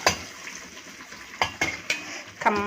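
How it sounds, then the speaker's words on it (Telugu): A hot tempering of asafoetida in oil is poured over tomato chutney, giving a soft sizzle with a few sharp spoon and utensil clinks and scrapes. A brighter burst of frying comes near the end. "కొంచెం పోపులోకి ఇంగువాలి అంతా అయిన తర్వాత చక్కగా ఈ పోపుని ఇలా పోసేసుకోవడమే"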